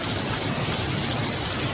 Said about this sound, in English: It's rain falling.